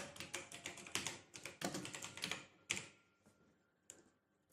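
Quick bursts of typing on a computer keyboard, close and crisp key taps in uneven clusters with short pauses, fading to a few isolated presses at the end, no voices.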